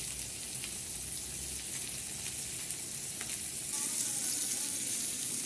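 A breaded cutlet fries in a pan with a steady, bright sizzle and crackle throughout, fairly close and unbroken, with no talking.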